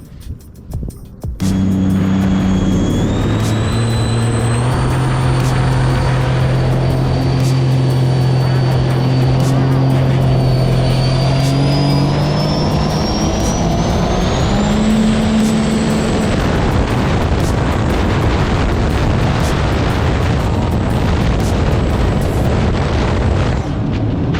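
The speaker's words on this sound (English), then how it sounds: "We're gonna go ahead and get this stage 2 RXPX and put it through its paces." A stage 2 turbocharged Sea-Doo RXP-X jet ski roars loud and close after a brief start, holding a steady throbbing drone with a high whine that climbs as it runs for over twenty seconds.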